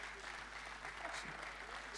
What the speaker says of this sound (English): I think it's fitting we give her another round of applause.